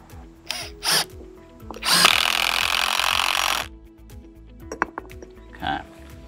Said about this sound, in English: we're going to go ahead and run another screw in that location